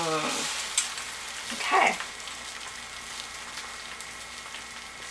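French toast frying in a pan, a low steady hiss of sizzling with a brief burst of spatula and pan noise partway through; one short spoken word near the start.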